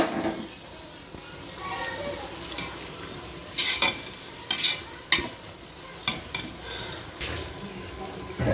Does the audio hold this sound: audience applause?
no